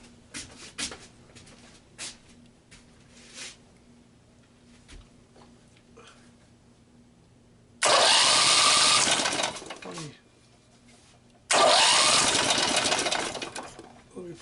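An opposed twin engine with one choke hooked up cranks and runs in two loud, steady bursts of several seconds each, separated by a short pause; soft handling noises and speech come before it.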